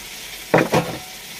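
Masala of ginger, garlic, onion and tomato with green chilli and cumin powder frying in a pan, two short bursts of sizzling and stirring over a quiet background.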